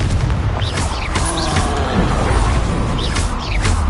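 Confringo spell blast in Hogwarts Legacy, a loud booming hit with creaking, mechanical debris and whooshing spell effects around it, dense and close throughout.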